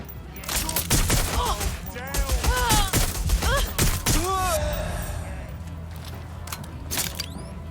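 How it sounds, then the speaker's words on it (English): Gunfire in the video game Watch Dogs: Legion: rapid bursts of shots ring out close and loud over a few seconds while a character shouts and groans, then the firing fades into quieter background ambience. "I'm taking fire!"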